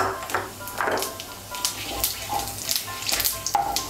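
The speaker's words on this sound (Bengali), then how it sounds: "তেলটা গরম হয়ে গিয়েছে, এর মধ্যে তেজপাতা, শুকনো লঙ্কা আর গোটা জিরে ফোড়ন দিচ্ছি।" Bay leaves, dried chillies and whole cumin hitting hot oil, crackling and sizzling in a series of sharp pops and spits over a continuous frying hiss, close and moderately loud.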